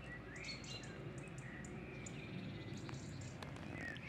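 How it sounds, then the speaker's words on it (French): Small birds chirp and tweet faintly in the distance over a steady outdoor hiss, with occasional brief insect-like ticks. "vous entendez les petits oiseaux"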